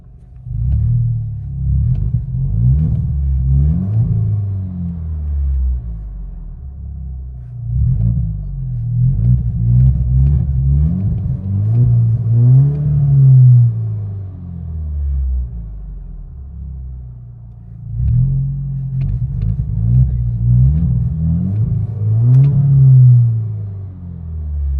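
A 2019 Alfa Romeo Giulia 2.0 turbo with 280 horsepower and a muffler delete, heard from inside the cabin: a loud, deep exhaust rumble that repeatedly revs up and falls back through several gear pulls, with no voices.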